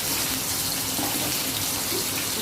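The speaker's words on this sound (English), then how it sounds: "Just slightly stir fry the paneer." Paneer stir fries in a hot pan, producing a steady, dense sizzling hiss that stays loud and even throughout, with no talking.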